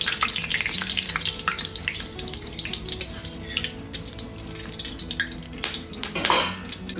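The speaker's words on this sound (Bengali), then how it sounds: "তো বন্ধুরা আমাদের তেল গরম হয়ে গেছে, তো দিয়ে দিচ্ছি আমরা গোটা গরম মশলা" Whole garam masala, dried chillies and bay leaves crackle in hot oil in a kadai for mutton-fat ghugni, a continuous sizzle mixed with light metallic clinks and a brief louder scrape near the end.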